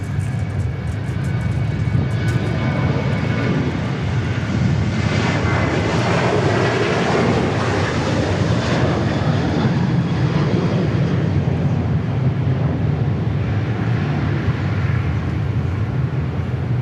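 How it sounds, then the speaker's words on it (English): A JetSuiteX jet rolls for takeoff at Dallas Love Field, its engines a steady, loud broadband roar that holds through the whole stretch with a faint whine on top. No one speaks. "All right, Jet Suite X finally rolling."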